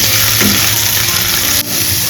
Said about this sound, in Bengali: কড়াইয়ে তেল দিয়ে তাতে কারি পাতা সর্ষে ফোড়ন দিয়েছি ও রসুন আর পেঁয়াজগুলো দিয়ে দিয়েছি ভালো করে এটাকে এবার একটু ভেজে নেব